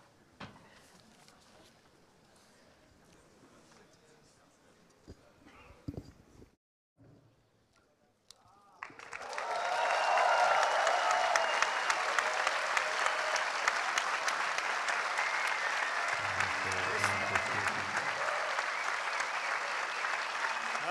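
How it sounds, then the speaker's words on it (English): Cinema audience at a Terminator 2 3D screening with a James Cameron Q&A breaks into loud sustained applause after quieter talk and rustling, the clapping swelling and holding steady, with a brief low voice near the end. "give him a big and great applause"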